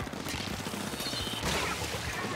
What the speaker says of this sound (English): That explosion was not within my range.